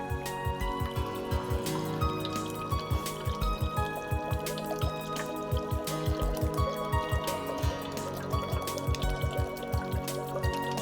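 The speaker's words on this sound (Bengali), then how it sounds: "এখন আমি ঝোল দিয়ে দিব" Broth is poured into a duck meat curry cooked with chui jhal, Khulna style, giving a steady liquid splashing and dripping with a rapid irregular patter that runs continuously throughout, close and fairly loud, with no talking.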